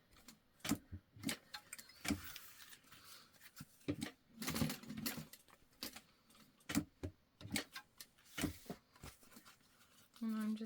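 A sewing machine stitches black fabric for a wristlet in short repeated bursts of rapid needle clatter separated by pauses, close but soft, with a voice talking at times.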